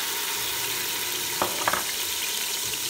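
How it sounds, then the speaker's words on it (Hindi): Two tablespoons of ginger garlic paste hit hot oil that previously browned onions, making a steady background sizzle and fry with a couple of brief clinks or splatter pops midway. "इसी ऑयल में जिसमें हमने प्याज ब्राउन किए। ये 2 table spoon ginger garlic paste से डालते हैं"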